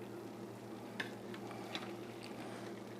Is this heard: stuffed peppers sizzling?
yes